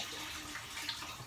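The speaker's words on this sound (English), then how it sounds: "pour in, this is a 32 ounce of vegetable broth" Vegetable broth from a 32-ounce carton pours into a pot, a soft, steady liquid splash heard faintly and close for just over a second.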